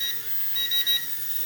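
Holy Stone quadcopter remote controller beeping to signal a speed-mode change: thin high-pitched electronic beeps, one short then a quick cluster of three, over a faint background hiss.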